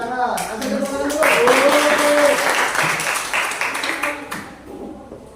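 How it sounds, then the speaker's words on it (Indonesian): Classroom applause during a student-teaching session at an Indonesian school. A brief voice comes first, then a burst of many hands clapping swells for about three seconds before thinning out and fading. "Nanti tepuk tangan dulu."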